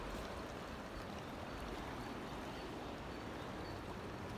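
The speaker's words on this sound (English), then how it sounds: "A babbling brook." A babbling brook flows steadily through a muddy outdoor landscape, a soft, continuous, even wash of trickling water heard alone.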